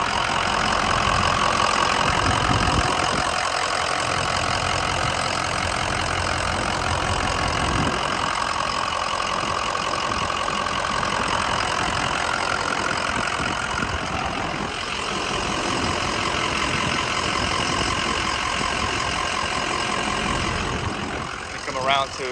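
A 6.0-liter Powerstroke diesel engine in a 2004 Ford Excursion idles steadily with a low, continuous knocking rumble, close by, with some speech-like sounds faintly mixed in.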